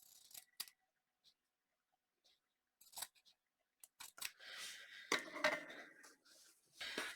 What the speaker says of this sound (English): So I'm just going to cut myself a little rectangle.